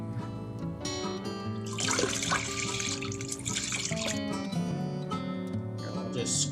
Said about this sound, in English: I'm going to strain it through a fine mesh strainer and a little piece of cheesecloth